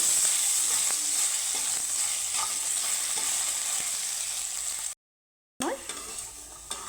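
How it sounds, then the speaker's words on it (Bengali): Salted potatoes sizzle steadily in hot oil, frying until reddish, while a utensil stirs and scrapes the pan, close up, with a brief silent gap near the end. "আলুটাকে আমি লাল লাল করে ভেজে নেব"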